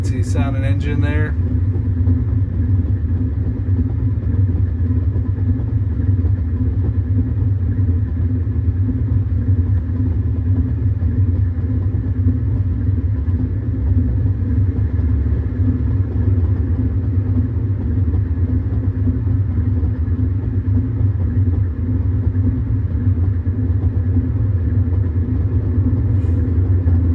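A truck engine in American Truck Simulator drones steadily for nearly half a minute, a loud low rumble close by, with a brief higher sound right at the start and no break in the hum.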